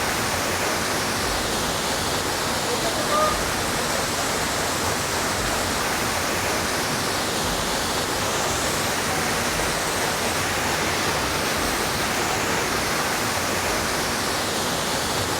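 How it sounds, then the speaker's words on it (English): Juan Diego Falls in Puerto Rico pours in a steady, dense rush of falling water, close and continuous with no breaks or voices. "After a short 5-minute hike, we have reached the waterfall."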